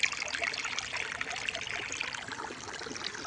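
Water trickling and flowing through a farm field makes a steady bright babbling gurgle, fairly close and continuous, with no other sounds standing out.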